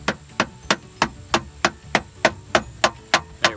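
A nylon hammer tapping plastic wheel caps onto a large Harbor Freight battery charger, a dozen evenly spaced, sharp close knocks in a steady rhythm with no talk.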